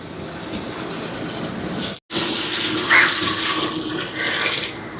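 Water pours steadily into a cooking pot of rice for chicken biryani up close, a continuous splashing rush with one brief break partway through.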